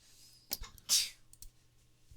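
A single sharp sneeze from a person bursts out loud and close, with faint clicks and low background hum around it and no talking.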